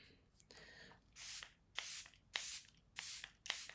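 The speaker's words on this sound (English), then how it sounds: "now I need setting spray" Several short hissing sprays in quick succession, close up, each a brief burst with small pauses between, no talking.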